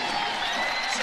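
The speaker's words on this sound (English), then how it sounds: "sends the crowd into a frenzy here at Rick Case Arena" Basketball crowd at Rick Case Arena roars and cheers after a left-hand jam, a dense, loud wash of cheering and applause filling the brief moment.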